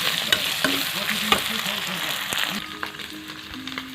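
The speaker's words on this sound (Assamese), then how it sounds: "সেই মাংসখিনি দিলোঁ। এতিয়া লৰাই দিব লাগিব।" Pork meat being stirred in a hot pan, a steady close sizzle broken by repeated scrapes and clacks of the utensil, with a voice talking faintly underneath.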